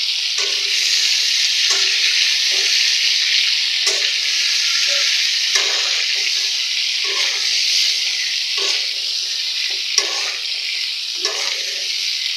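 Eggs frying in a home kitchen pan with a little turmeric and salt, a steady loud sizzle with a few scrapes of stirring at intervals, close by with no talk.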